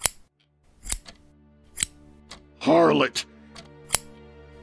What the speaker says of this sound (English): put down those scissors